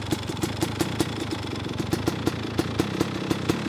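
A Yamaha YZ250 dirt bike engine idles steadily nearby, with a rapid, regular putter and light mechanical clatter.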